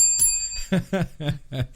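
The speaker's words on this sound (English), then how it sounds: "He's got his little bell." A small hand bell rings close up in a series of quick bright dings, four or five strikes in under two seconds, with no talk over it.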